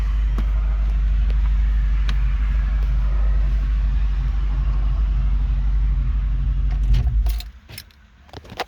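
A 1996 Mustang GT convertible with a swapped-in Cobra engine idles with a steady, deep low rumble, close and even, before a few metallic jangles and clicks near the end as the sound drops away.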